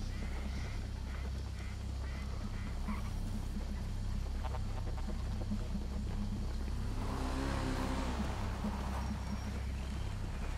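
A motorcycle engine in Grand Theft Auto V on PS4 drones steadily and loudly throughout, its pitch rising toward the end, with a faint voice underneath.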